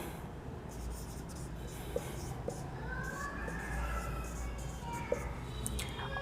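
Chalk or marker strokes on a classroom board as sentences are written, a quiet steady scratching with a few faint taps, under a low room hum.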